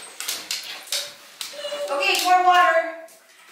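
A dog whimpers and whines in high, wavering tones while being washed in a shower, with people talking over it and the splash of water in the background.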